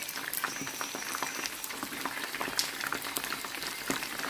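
Turkey wings fry in a pan on a low flame, a quiet steady sizzle with scattered small crackles and pops throughout.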